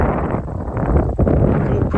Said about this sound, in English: It's too windy to rake